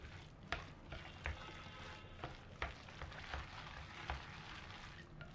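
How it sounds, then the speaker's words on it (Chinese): Hot oil sizzling over minced meat with chopped scallions in a bowl, with steady crackling and soft clicks of chopsticks stirring the filling, close up and without speech. "在上面泼一勺热好的油，用筷子搅拌均匀"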